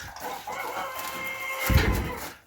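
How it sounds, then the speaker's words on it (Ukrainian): A rooster crows nearby, its drawn-out call rising and falling over a low rustle of other fowl clucking in the background. "Ну, півні як півні."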